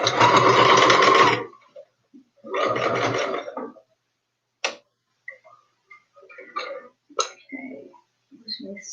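Sewing machine stitching a teddy bear's head to its body runs in two close, loud bursts of rapid whirring, followed by quiet fabric handling, small clicks and soft movements.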